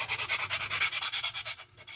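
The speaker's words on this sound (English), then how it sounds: "So we shall do just a little more sanding." A sanding stick rubs back and forth over a small plastic model car part in quick, even strokes, close and scratchy, about ten passes in two seconds, with no talk.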